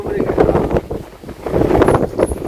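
Strong wind on a misty mountain top near Kolukkumalai buffets the microphone in loud, gusting roars that swell and dip throughout, with no clear talk.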